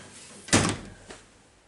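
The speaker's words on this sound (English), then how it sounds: "It does have a little door." The small door on an industrial screw machine shuts with one sharp, loud metallic thunk, followed by a softer knock a moment later, with quiet shop ambience around it.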